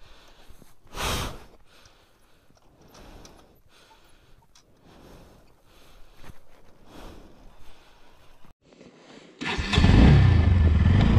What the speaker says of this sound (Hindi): अभी आधे घंटे की कड़ी मेहनत के बाद वापस से बाइक स्टार्ट हो गई है